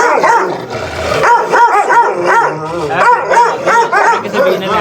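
Gultair dog barking repeatedly in a steady, loud run of barks and yips, close to the microphone, with a voice talking over it at times.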